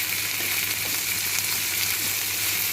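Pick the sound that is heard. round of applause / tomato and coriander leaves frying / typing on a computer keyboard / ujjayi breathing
tomato and coriander leaves frying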